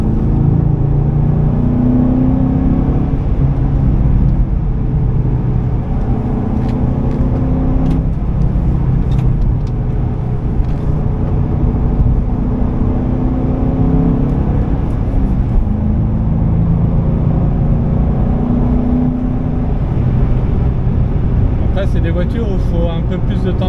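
A 2005 Ford Mustang GT with a V8 and manual gearbox cruises through bends at constant pace, its engine a steady, deep in-cabin rumble with gentle rises and falls, while someone talks over it throughout.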